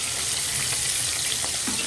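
Pieces of a very large katla fish fry in hot oil with a loud, dense, continuous sizzle and occasional faint stirring knocks.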